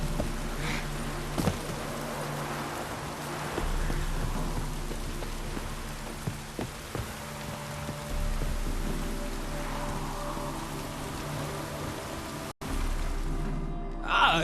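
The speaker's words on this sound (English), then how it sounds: "Looks like rain." Steady rain with low rumbling thunder fills a stormy scene in the video game The Witcher 3, a continuous wash of downpour with occasional deeper rolls, heard alone.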